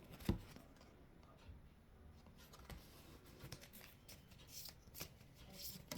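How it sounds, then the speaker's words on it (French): A deck of tarot cards is shuffled and a single card drawn, giving soft, quick papery riffling and a light flick, faint and close against a quiet background with no talking. "On va juste tirer une carte."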